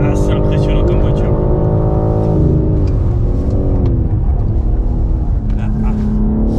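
Fast car racing in a driving game, its engine a steady loud drone with shifting pitch as it speeds along, with someone talking over it throughout.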